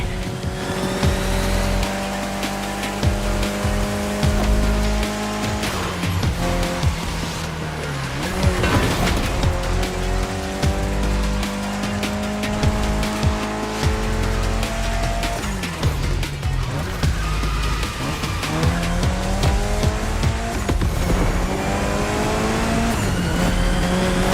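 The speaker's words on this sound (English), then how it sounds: "especially your new ride, Toji's Mitsubishi Lancer Evo X" A Mitsubishi Lancer Evo X races in The Crew Motorfest, its engine revving through repeated rising gear pulls with shifts between them, tires squealing and skidding, loud and continuous.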